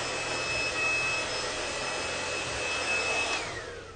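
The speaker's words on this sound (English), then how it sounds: "the temperature of the blow dryer is high." A blow dryer warms hair with a loud, steady whooshing roar and a thin high whine, running continuously, then easing slightly at the very end.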